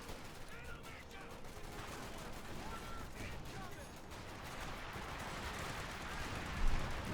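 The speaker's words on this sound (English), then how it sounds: "Anti-tank shooting at the target tank." Anti-tank guns fire at tanks in the Company of Heroes 2 real-time strategy game, with dense rolling bursts of in-game gunfire and explosions mixed under a busy battle soundscape, fairly quiet overall.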